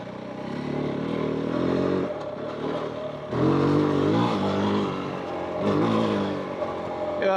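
A KOVE 450 Rally adventure motorcycle ridden off-road over rocky ground, its single-cylinder engine rising and falling in pitch through repeated throttle surges and gear changes, heard close and loud with a rider's brief talk under it.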